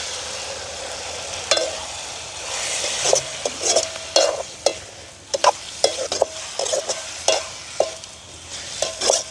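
Prawns sauté with onion, green chilli and tomato in a village kitchen pan, a close sizzle broken by repeated sharp scrapes and stirring strokes of a spoon against the metal.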